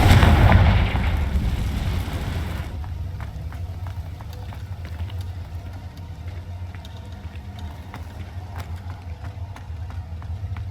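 Confringo blasting spell explosion in the Hogwarts Legacy video game: a loud, booming burst at the start that rumbles and decays over a couple of seconds into a low, lingering ambient drone with faint clicks.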